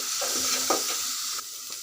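Mixed vegetables with chili powder, turmeric and salt are stirred in a pan, producing a brief burst of scraping and sizzling strokes, close and fairly loud, with no talk.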